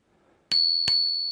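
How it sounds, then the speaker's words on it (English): The handlebar bell on a Volt Pulse e-bike rings twice, bright and close. Each ding is followed by a long, clear metallic ring that keeps sounding after the strikes. "And then we've got a bell"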